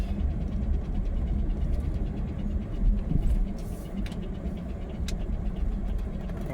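A car drives along a street near an airport on a rainy day, a steady close engine and road rumble with tyre noise running throughout, with no talking.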